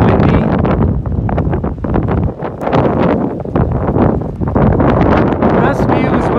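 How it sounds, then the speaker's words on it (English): Strong wind at a mountain lake, Rainbow Lake in Custer County, Colorado, buffets the microphone, a loud constant roar with gusty rumbling throughout. "it is so windy."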